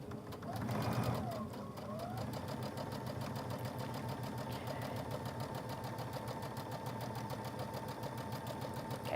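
A sewing machine stitches chenille pumpkin fabric in one continuous, close, fast mechanical rattle, starting with a slightly louder burst and then running at an even pace throughout.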